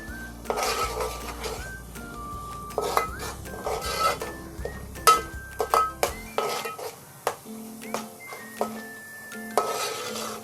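A spoon stirs Koli masala and turmeric in a metal cooking pot, giving repeated clinks and scrapes in an irregular rhythm, close and clear, with no talking.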